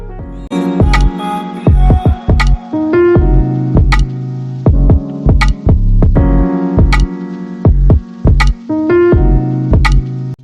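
A sewing machine stitches along a lehenga hem in repeated short runs, its motor whirring in start-stop bursts of about a second with brief pauses between them, close and loud.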